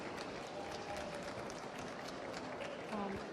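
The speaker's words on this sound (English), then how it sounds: "Now, an applause for our competition, please" An audience applauds at the World Brewers Cup coffee brewing competition, with a dense, steady wash of many hands clapping at moderate distance across the whole stretch and a faint voice or two underneath.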